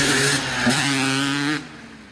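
A 1989 Honda CR250R two-stroke dirt bike revs loudly and up close with a raspy, buzzing engine note as it jumps a cement pipe, then the sound drops off sharply.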